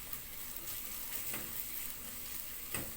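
Garlic sizzles steadily in a hot pan while it is stirred, with soft scraping taps during a home cooking session, close and quiet with no voices.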